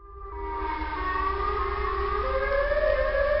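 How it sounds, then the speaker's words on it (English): Siren Head's siren call from a horror video game, a wailing siren that swells in from silence and holds a long, loud, slowly rising tone with layered pitches. "did you just hear the siren head noise again?"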